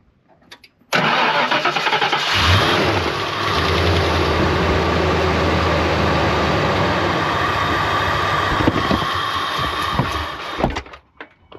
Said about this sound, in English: Car purrs like a kitten.